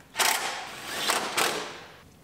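A truck part being bolted in on a 2019 GMC Yukon Denali during a rebuild: three close, short whirring mechanical bursts from a fastening tool, the first longest, with brief pauses between.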